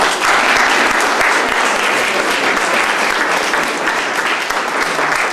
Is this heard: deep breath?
no